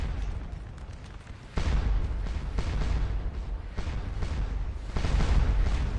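Artillery cannon fire in the Napoleonic battle game Scourge of War Waterloo: a sudden loud boom followed by more rumbling blasts and a steady battle din, dense and continuous, with no speech.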